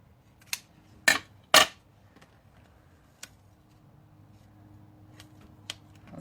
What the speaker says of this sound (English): let me just cut my ribbon down a little bit